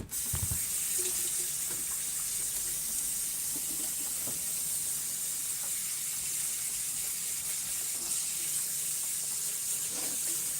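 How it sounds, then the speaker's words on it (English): Water runs steadily from a tap into a sink during handwashing in a home kitchen, a continuous hissing stream that stays fairly loud and even throughout with no talking. "Let me wash my hands"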